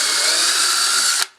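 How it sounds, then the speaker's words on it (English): A power drill with a 3/32 inch bit boring a pilot hole in wood inside a cramped cabinet, a loud steady high whine held for over a second, then cut off abruptly. "drill in with a 3/32 inch drill bit, and I'm using 1 1/4 inch screws"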